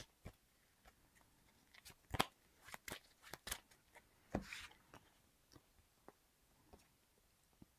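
Cards of the Marvel Champions card game being shuffled and handled on a table, a series of soft irregular snaps and riffles, quiet and close, with no talk.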